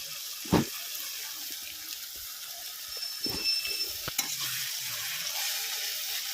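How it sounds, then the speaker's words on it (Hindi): Fish curry masala and turmeric paste cooking in a pan, heard as a steady soft sizzle, with a few stirring scrapes and clinks of a utensil in close, continuous texture, no talking. "हल्दी गुंड पर मु फिश करी मसला को भी पकई देली।"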